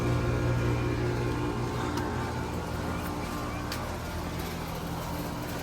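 Two Bryant Legacy line heat pumps run outdoors, each with a scroll compressor and fan motor, giving a steady, close, broadband whir with a low hum that holds at an even level throughout.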